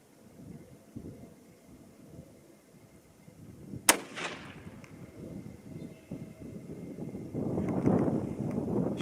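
A single sharp, loud rifle shot from a .25-06 Remington firing an IMR-4350 powder load during outdoor load testing, a crack followed by a short rolling echo over steady wind noise.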